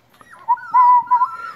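Airedale Terrier puppies whimper and yip in a close, high, wavering whine that rises and falls in several drawn-out cries, with no talking.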